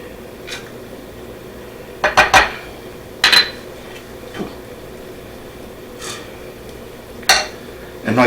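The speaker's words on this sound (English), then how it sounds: "Now I'm going to put in my chili sauce." Chili sauce goes into a bowl of dressing for a Reuben sandwich, followed by a few distinct clinks and scrapes of a utensil against the bowl spaced between quiet pauses.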